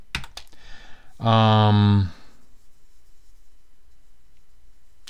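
Someone types on a computer keyboard, with a few sharp key clicks at the start and end. A voice briefly sounds in between, and a quiet room tone runs underneath.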